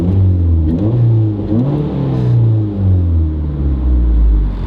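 A Mazda 3 fitted with a lightweight flywheel revs close and loud, its engine note rising and falling in repeated swells with a deep rumbling drone underneath.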